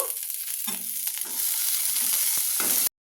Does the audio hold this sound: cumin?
yes